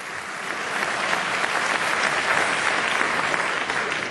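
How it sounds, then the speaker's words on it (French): Sustained applause from a political congress audience in Nîmes, a dense, even wash of many hands clapping that swells slightly and holds steady throughout, loud and fairly close. "Ça, vous pouvez applaudir."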